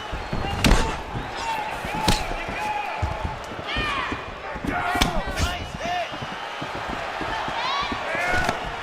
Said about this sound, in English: Big shots being landed on both sides here.